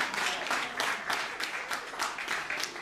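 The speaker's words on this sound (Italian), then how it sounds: "a cui va un grande applauso" A small gathering at a Mother's Day event in a villa gives a brief round of applause for the coordinator, rhythmic clapping from a modest crowd, fairly quiet and unaccompanied by talk.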